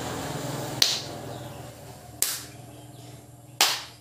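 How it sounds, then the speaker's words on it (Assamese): Three sharp hand claps spaced roughly a second and a half apart during a vagus nerve activation exercise, each crisp and close against a quiet indoor background. "দুই হাতে এনেকৈ আমি ক্লেপিং তালি বজাব লাগে"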